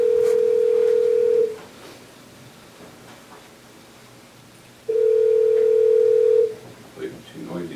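A landline telephone's steady dial tone in a meeting room, sounding twice in long unbroken stretches with a quiet pause between, followed by a few short keypad tones, while faint room noise and murmured voices sit underneath.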